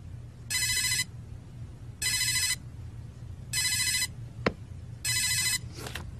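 A phone rings in four evenly spaced electronic bursts, each about half a second long, over a low steady background hum with no talking.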